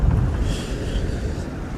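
Strong wind buffets the microphone with a continuous low rumble and gusty roar throughout.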